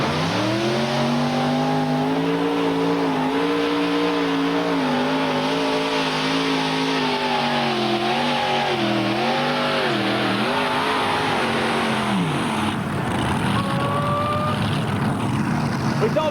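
The Bad Habit modified tractor roars through a pull at Bowling Green, Ohio, its loud engine note rising and wavering as it strains, then cutting off sharply near the end, with a crowd and announcer faintly underneath.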